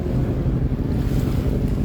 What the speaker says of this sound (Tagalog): mas music pa sa akin yung alon ng dagat